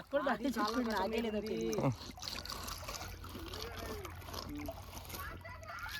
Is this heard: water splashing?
yes